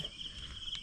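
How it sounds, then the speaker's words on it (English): Male cicadas drumming at a nature resort in Chikkamagaluru, a steady high-pitched buzzing drone that holds evenly throughout at moderate loudness, with a brief rise in intensity near the end. "Two patches, when this vibrates, it hits these two. So it creates a drumming effect."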